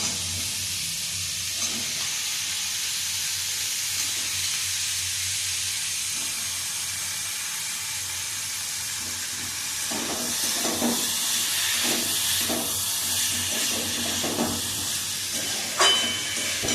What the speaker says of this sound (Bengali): মশলাটা ভালো করে কষে গেছে, আমি এর মধ্যে দিয়ে দেবো সিদ্ধ করে রাখা ওল ও আলুগুলো